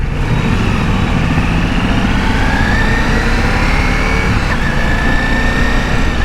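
Ducati Multistrada V4 Pikes Peak engine revving at high RPM while riding, a loud continuous roar with dense low rumble and wind noise, steady throughout with no voice.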